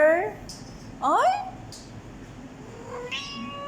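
A cat in Dubai meows several times up close, the calls short and rising with quiet gaps between them, alongside a voice speaking nearby.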